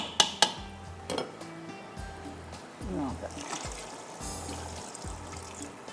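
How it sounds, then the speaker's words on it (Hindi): Water is poured into a pot of soaked pulao rice with a trickling splash, mixed with metal utensil clinks and pot scrapes near the start. A person talks over the kitchen sounds. "थोड़ा सा इसमें पानी जाएगा"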